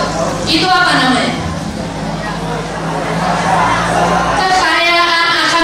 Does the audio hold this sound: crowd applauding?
yes